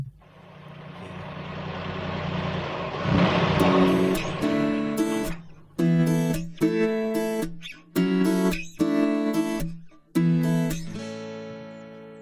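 A car's engine starts up and roars louder, then a run of loud, close horn-like beeps in short bursts with gaps between them. No one speaks.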